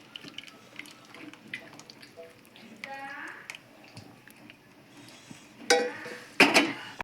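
A spoon stirs an arrowroot flour mixture with melted jaggery in a pan, giving soft, scattered scraping and clinking sounds with a couple of louder clatters near the end, under a person talking.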